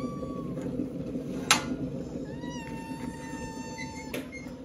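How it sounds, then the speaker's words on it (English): A small cat outdoors near an Airbnb in Fiji gives a few soft, high meows, including a rising drawn-out call, against steady background noise with a couple of sharp clicks. "cute little kitty cat always comes and visits us every morning and says good morning to us as well"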